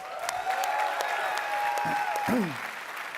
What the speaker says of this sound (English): Round of applause for the drum line, guys.